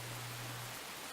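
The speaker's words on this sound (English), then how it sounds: "It looked like it began to rain at some point." Rain falls in a steady, soft, even hiss, faint and unbroken across a very short stretch with no voices.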